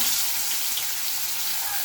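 Finely chopped onion hits hot oil for a fish kalia, giving a loud, steady, close sizzle with no voices.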